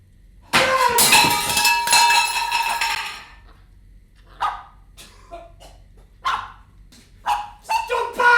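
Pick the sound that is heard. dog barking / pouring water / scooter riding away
dog barking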